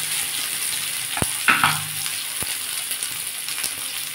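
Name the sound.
onions frying in a pan for egg onion paratha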